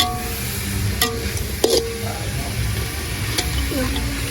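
Chicken kottu roti stir-fried on a hot griddle, with a loud continuous sizzle and a few sharp metal clanks and scrapes, close by.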